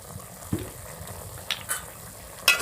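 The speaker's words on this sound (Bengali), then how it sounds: "একটু নাড়াচাড়া দিয়ে নেই ভালো করে," Food with a little raw oil stirred in a pan, a soft background sizzle broken by a few sharp scrapes and clinks of the spoon against the pan.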